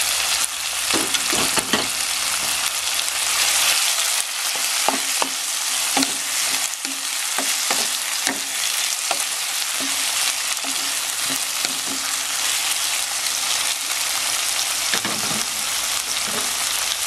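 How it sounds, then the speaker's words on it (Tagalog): Shrimp fry with tomatoes and chayote in a hot pan, giving a loud, dense, continuous sizzle that is punctuated by frequent scrapes and taps of a stirring utensil, close and with no voices. "dito, ilalagay po natin itong shrimps."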